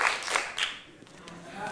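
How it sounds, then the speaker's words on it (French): An improv festival audience in Paris claps in short quick bursts of rapid applause that fade after about a second, with a voice speaking over it. "À 2, applaudissez vite."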